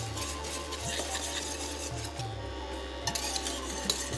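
A spoon scrapes and rasps around a pot of thickening jowar flour phirni, rhythmic rubbing strokes with faint clinks of metal, steady and close with no talking.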